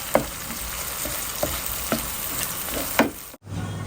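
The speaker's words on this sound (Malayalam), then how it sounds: "ലേശം കറിവേപ്പിലയും കൂടെ ചേർത്ത് കൊടുത്തിട്ട് നല്ല തരമായിട്ട് നമുക്കൊന്ന് വഴറ്റിയെടുക്കാം" Tomatoes and curry leaves sizzle steadily in a pan, stuffed bitter gourd dish in progress, with periodic scraping strokes of a spatula stirring them, close and continuous with no talking.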